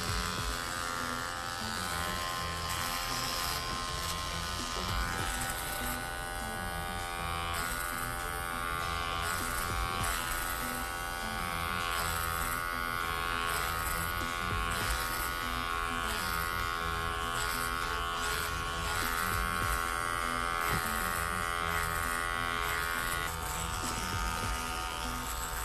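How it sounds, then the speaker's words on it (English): Electric hair clippers buzz steadily and close up while cutting hair along the neck for a women's faux hawk style, an unbroken whirring hum with slight fluctuations as the blade moves through hair. "Using my clipper flat and following the shape of the neck"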